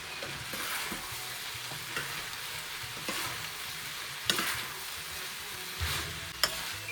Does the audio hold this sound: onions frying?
yes